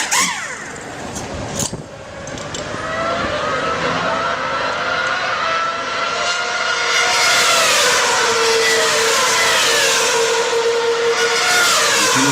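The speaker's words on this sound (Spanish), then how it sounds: "Esto hasta hace poco era el récord en la parada en boxes" A Formula racing car pit stop, with a loud engine roar and fast air-gun bursts at the start, then a sustained high-pitched engine drone and crowd noise building steadily.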